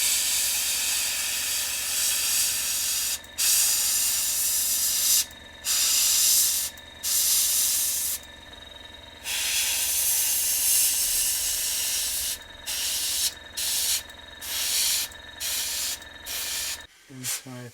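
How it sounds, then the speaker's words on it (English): An airbrush sprays paint in a steady, close hiss, broken by short pauses between passes, with a brief clatter at the end. "this airbrush, than my old one"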